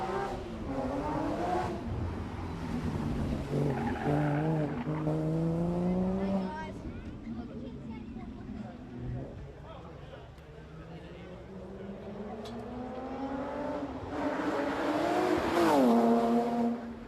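A rally car, likely a Porsche, launches off the start line at the Strathalbyn town stage, engine revving hard through rising gear pulls, loud and close, with a commentator talking over it.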